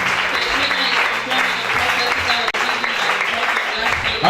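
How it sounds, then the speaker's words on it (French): A church congregation claps and cheers loudly and continuously during a prophecy service, with voices calling out through the sustained applause. "Acclame Jésus"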